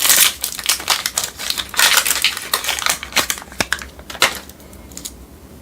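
Plastic packaging crinkles and crackles as HP setup ink cartridges (tricolor and black) are pulled free, a dense run of close, irregular rustling bursts that thins out toward the end with no talking.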